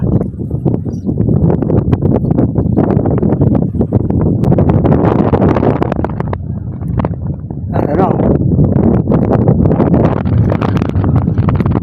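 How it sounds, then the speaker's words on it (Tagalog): Strong wind buffets the microphone outdoors with continuous loud rumbling gusts and rustling, while people talk through it. "Pack up na, sobrang lakas ng hangin."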